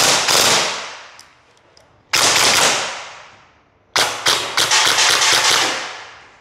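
A fully upgraded Mk47 Chimera gel blaster fires over a chronograph: one loud crack, a second after a pause, then a quick burst of several rapid snaps, each trailing off into a short decay.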